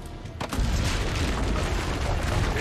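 Cannons boom from a city wall in the video game Assassin's Creed Brotherhood, a deep rumbling blast rolling out after a brief lead-in and sustaining as a heavy continuous roar of battle.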